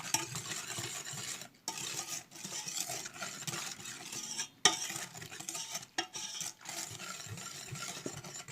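Flour, sugar and a spoonful of starch stirred together for pudding in a home kitchen: soft repeated scraping of a spoon around a bowl, close and steady, broken by a few brief pauses.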